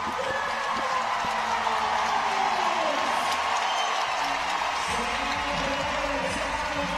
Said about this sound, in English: all these fans cheering so loud for you